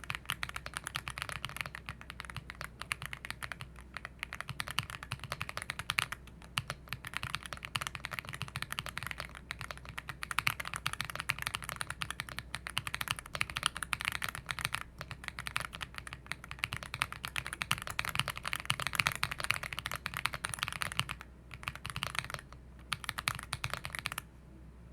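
Typing on an AULA F75 keyboard with lubed switches: a steady, dense run of close-up key clacks and taps that goes on throughout with only brief pauses, and no voices.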